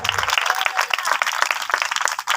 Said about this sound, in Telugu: దగ్గరగా చప్పట్లు కొట్టి ప్రభులు మయంపరచండి